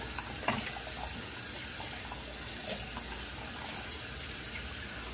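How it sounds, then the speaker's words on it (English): A shaving brush is rinsed under running water, a continuous splashing gush from a tap for a few seconds. "Just rinsing out my brush here real quick."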